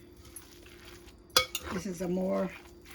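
A spoon is mixing sugar-free cassava cake batter in a bowl: one sharp clink against the side, then wet scraping and stirring strokes, close and fairly quiet.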